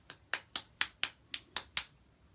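Eight crisp hand claps in a steady, even rhythm, close by and fairly quiet, each one sharp and isolated, with no voices over them.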